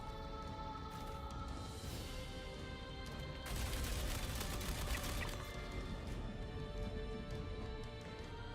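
Sustained gunfire from an LMG in the video game Star Citizen, a dense crackling barrage that runs steadily throughout and grows louder about halfway through.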